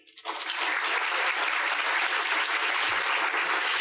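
A crowd at an annual luncheon symposium bursts into applause, rising quickly from near silence into a full, dense wash of clapping that holds loud and steady for several seconds, with no voices over it.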